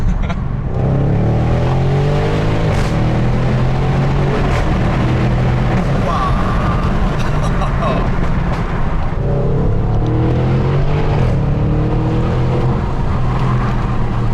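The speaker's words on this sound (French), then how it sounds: "l'avantage de ce système d'échappement Miltech, c'est que tu peux avec la boîte contrôler entre le mode confort et le mode sport l'ouverture des valves" Loud, close Audi RS6 engine with a Milltek exhaust revving hard, with a steady throaty drone that climbs twice in rising pulls and stays continuous throughout.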